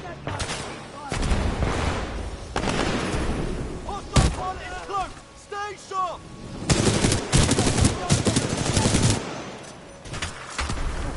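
Sniper fire from AI bots in Titanfall 2 cracks out as sharp single shots mixed with bursts of in-game gunfire and combat noise, with a player talking over parts of it.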